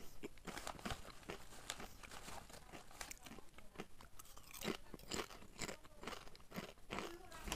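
Crunchy, salty, oily chips are chewed close to the mic in dense, continuous crackling crunches with crinkling bits throughout, fairly quiet overall.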